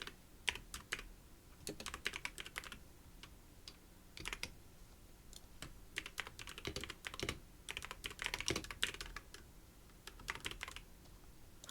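Rapid keyboard typing on a computer, bursts of clacking keystrokes in an irregular rhythm, close and fairly quiet, with brief pauses between flurries and no voices.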